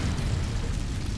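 An Incendio fire spell bursts in Hogwarts Legacy, a steady roaring whoosh of flame filling the short moment, loud and close with no talk.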